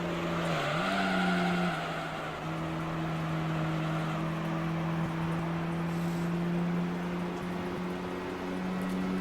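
A Chrysler PT Cruiser racing in Gran Turismo 3, its engine holding a steady sustained drone with a pitch dip early on, plus tire noise and a broad rushing wash, continuous and fairly loud.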